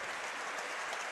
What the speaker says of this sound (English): applause from the home fans, I think, as he goes off.